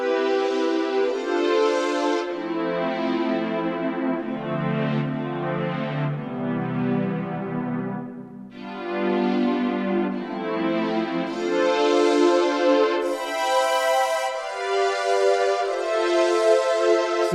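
A Korg multi/poly synth patch plays sustained chords of pseudo-realistic string ensemble from violin wavetables layered with detuned saw, a filter sweep moving underneath as the chords change, loud and alone with no talk.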